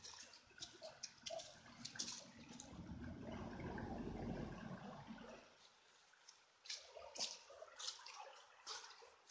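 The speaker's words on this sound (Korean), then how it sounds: "야, 물소리 좋다." Water flowing in a mountain valley stream near home, a broad rushing wash that swells loudest in the middle and settles into lighter trickling and splashing, heard close and without talk.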